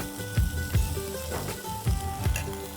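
Garlic paste stirred into onions frying in oil, a steady loud sizzle with rhythmic scraping strokes of a spoon against the pan, close up and with no talking.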